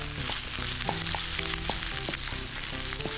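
A wooden spoon stirs a fried rice mixture with fried eggs and aromatics in a non-stick pan, giving steady sizzling with repeated scraping and tapping strokes and no voices.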